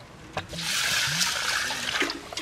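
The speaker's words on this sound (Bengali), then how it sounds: "ডালটি ধুইয়া লইতেছি।" Lentils (dal) being rinsed by hand in water at an outdoor village picnic: close sloshing and splashing with bright trickles and small splatters, continuous for a couple of seconds.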